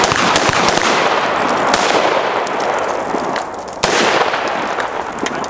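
Gunfire at an outdoor shooting range during a range-day event, with dense, overlapping shots crackling continuously and loudly and a sharp report standing out near the end.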